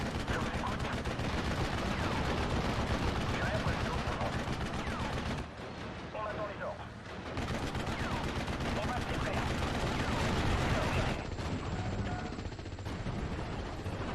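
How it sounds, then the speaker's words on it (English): A strafing run in the WWII strategy game Steel Division: Normandy 44 brings dense, continuous gunfire and explosions that roar almost without pause, easing briefly midway before surging again. "We got the double strafing run coming in."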